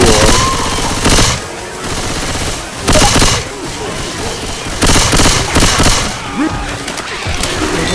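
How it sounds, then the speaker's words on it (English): A pipe bomb is thrown in the zombie shooter Left 4 Dead 2 amid loud, close bursts of gunfire and sharp explosive blasts that come in repeated clusters, with players talking over the noise. "throwing a pipe bomb"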